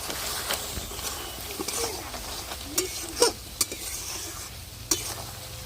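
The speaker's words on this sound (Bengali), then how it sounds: "মিক্সিতে আমি যে মশলাগুলো করেছি আমি পরিমাণ মতো মশলা দিয়ে ভালো করে কষিয়ে নিই" Ground spices for a sweet, sour and spicy homemade mango pickle fry in a pan with a low, steady sizzle, broken by a few sharp clinks and scrapes of stirring.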